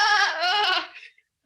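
One loud, close sheep bleat, wavering and drawn out for about a second before it trails off into silence.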